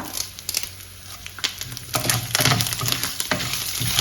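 Ponni rice fries in a pan with dried red chillies and curry leaves for a tender jackfruit dish. There is a close, crackling sizzle with sharp pops and rustles that grows louder partway through.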